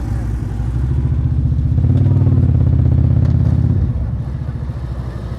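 A motorcycle engine hums at low revs during slow-speed riding practice in North Carolina, swelling steadily to a fuller drone before easing back near the end, heard fairly close with no clear talk.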